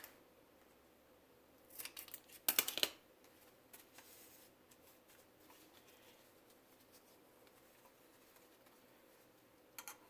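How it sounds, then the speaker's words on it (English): Scissors trim tape for a homemade face mask from household items: a brief burst of close snipping and rustling near the start, then quiet handling noises, no talk. "Trim the tape."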